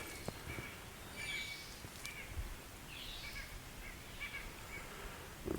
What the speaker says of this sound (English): you can hear the calls of several birds I don't recognize